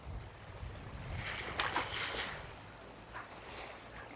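Waves rolling in over rocks beside clear water at a seaside spot near a cafe, a broad steady wash of water that swells in the middle and then eases back, heard alone without talk.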